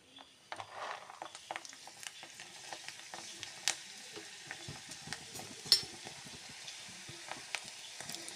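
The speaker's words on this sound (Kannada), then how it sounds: "ಈಗ ಇದನ್ನು ಎಣ್ಣೆಗೆ ಹಾಕಿ ಕರಿಯವು" Dried ivy gourd (tondekai) sandige pieces frying in hot oil, a steady close crackle and sizzle with scattered sharper pops and occasional stirring clinks, no voices.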